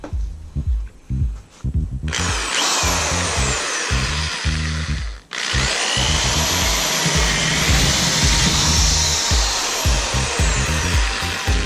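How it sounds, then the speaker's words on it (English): A power drill drills holes for a spoiler install on a Camaro, running in loud, sustained bursts, stopping briefly around two and five seconds before whining steadily again, close and dominant throughout. "we'll drill out these 4 holes here"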